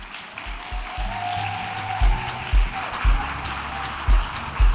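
A conference audience applauds, a broad wash of clapping in a large hall, mixed with low thumping bumps and some background voices.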